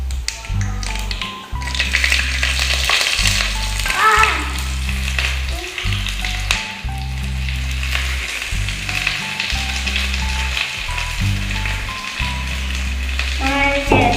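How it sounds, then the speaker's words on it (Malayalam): Chembarathi leaf thoran ingredients sizzling and frying in hot oil after mustard seeds have popped, with steady crackle, spoon taps against the pan and a rhythmic low thumping underneath. "ചേർത്ത് വെച്ചിട്ടുണ്ട്. നമുക്കെന്ന് നന്നായിട്ട് വഴറ്റിയെടുക്കണം."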